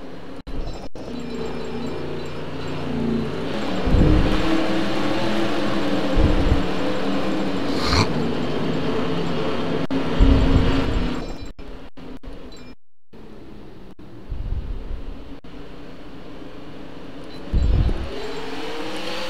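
Race cars in a NOVAR Kelloggs Series event at Jacksonville accelerate on the restart, a loud continuous engine roar with rising and falling swells and brief drops.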